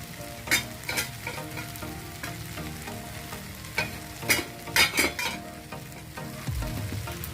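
Squeezed canned tuna fries with softened onions in a pan for an Indian-style fish curry, with a continuous close sizzle and repeated clattering stirs and scrapes of a spoon, and nobody talking.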